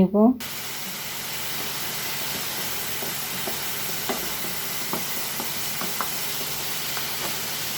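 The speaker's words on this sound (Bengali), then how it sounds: "চাপা সুটকিটা দিয়ে ভালোভাবে একটু কষিয়ে" Masala fried with chapa shutki, fermented dried fish, a steady hiss of frying under brief speech at the start, with faint occasional ticks and pops, close.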